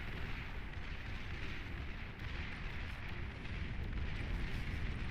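Units blowing up in the real-time strategy game Beyond All Reason, a dense continuous rumble of overlapping explosions and booms at steady loudness.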